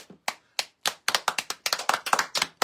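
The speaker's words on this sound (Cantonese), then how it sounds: "我哋為你一齊拍手先。" A small group of people clap to congratulate a winner at a live sale event, starting with scattered claps and building into a quick, uneven burst of close applause.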